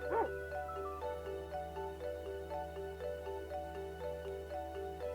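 Angelo the dog lets out a single brief whimper at the outset in an RPG Maker game, then steady game music carries on with no further dog sounds.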